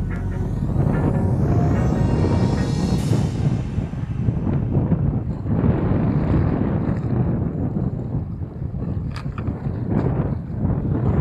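Strong wind blows steadily on the Lamongan coast during a shore casting session for fish, a loud continuous roar buffeting the microphone for the whole stretch with no talk.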